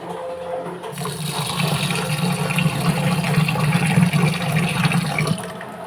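Water sloshes and gushes steadily, close by, as raw ration rice is swirled and rinsed in a vessel, with no speech.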